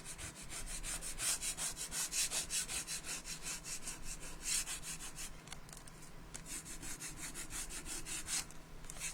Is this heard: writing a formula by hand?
no